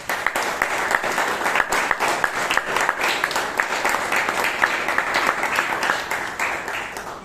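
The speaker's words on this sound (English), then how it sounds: "Give him a big round of applause." An audience at a Toastmasters club meeting in Bangalore breaks into sustained applause, a dense patter of many clapping hands that stays steady and fairly close for several seconds before easing slightly.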